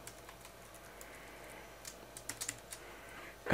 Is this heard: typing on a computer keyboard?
yes